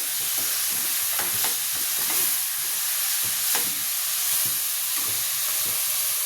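Chukka greens sauté in a hot pan, a steady loud sizzle with occasional stirring scrapes, no voices.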